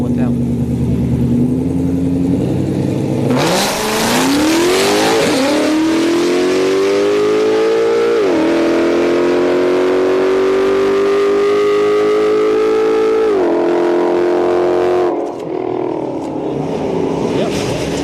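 A supercharged VMP 5.0 launches against a Nissan 370Z on a street-night drag strip, engines roaring loudly and climbing in pitch through several gear shifts, each upshift dropping the tone before it rises again.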